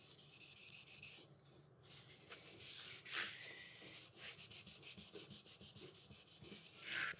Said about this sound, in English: Rub it some more, move your steel wool around like this.